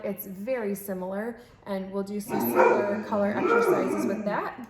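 Moose, a pet dog, lets out a string of yips, whimpers and barks close by, with a person talking over and between the calls.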